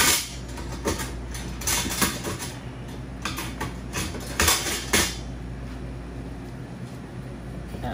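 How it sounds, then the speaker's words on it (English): A spoon scrapes and taps avocado into a pan while guacamole is made in a kitchen, giving a series of sharp close metallic clinks in the first five seconds, then quieter. "spoon the avocado, see, into the pan, just like that"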